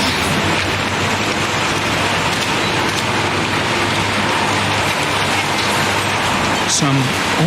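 Rain in the video game Heavy Rain, a steady hissing downpour with low background rumble filling the scene at constant loudness, with a brief tonal sound near the end.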